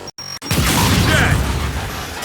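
A frag grenade goes off in Gears 5, a single loud blast that swells suddenly after a brief pause and then roars on as a sustained, rumbling burst.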